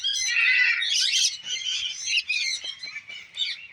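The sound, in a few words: parrots and birds calling in aviary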